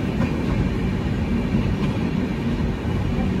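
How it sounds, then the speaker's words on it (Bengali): Kulik Express passenger train rolling steadily on rails between Howrah and Radhikapur, a continuous loud low rumble of carriage wheels with faint clickety-clack, heard from inside the moving train with no talk. "আমাদের ট্রেন এসে পৌঁছালো উত্তর দিনাজপুরের কালিয়াগঞ্জে"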